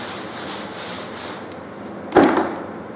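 Wall being scrubbed after wallpaper stripping, a soft continuous scrubbing rub ending in a brief louder scrape or knock, close, with no talk.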